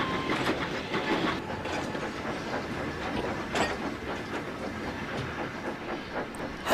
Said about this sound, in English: he was surprised to see Thomas backing the train down the branch line